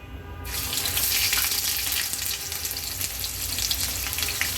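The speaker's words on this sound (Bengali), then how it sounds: "দুটো দুটো করে ভেজে নিব চাপটা।" Pieces of beef chap sizzle and fry in a hot pan of oil, a steady loud crackling hiss that starts abruptly and continues without talk.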